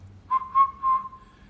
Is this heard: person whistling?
yes